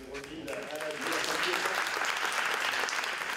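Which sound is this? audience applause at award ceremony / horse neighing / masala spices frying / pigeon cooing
audience applause at award ceremony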